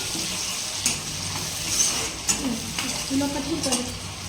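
Sliced onions salted and sizzling in a pan for a green-chili egg fry, a steady frying hiss broken by several scraping stirs and light clinks of a spoon against the pan, close and with no talk.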